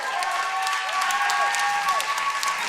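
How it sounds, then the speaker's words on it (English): Comedy show audience applauding: a dense, continuous wash of clapping from a large crowd, steady and fairly loud throughout. "what are you applauding for?"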